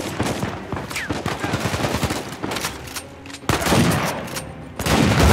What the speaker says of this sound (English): Oh, that grenade was huge.